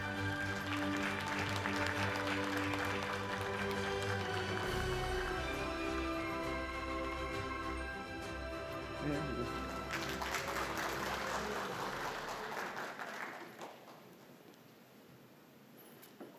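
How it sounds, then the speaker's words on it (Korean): Applause from the audience at a logistics forum on Gadeokdo New Airport, a dense wash of clapping over strong tonal background music that thins out toward the end. "여러분 뜨거운 박수 부탁드리겠습니다."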